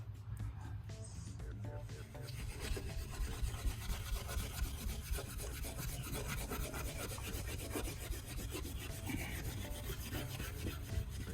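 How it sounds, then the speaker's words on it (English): Steel wool with a little cleaning solution scrubs hard water stains off a window pane, making a close, continuous rasping rub with a low rumbling undertone that carries on steadily throughout. "we're gonna be using our steel wool here and a little bit of solution"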